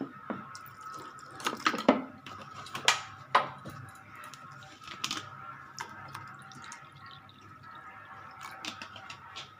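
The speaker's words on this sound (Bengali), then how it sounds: "এবার এতে আমি একটু ঠান্ডা জল একটু গরম জল দুটো জল মেশাবো দেখো আমি জল দিচ্ছি" Cold and hot water poured into a glass while mixing an aam panna mango drink, a few close splashes and drips in short bursts, then a quieter trickle.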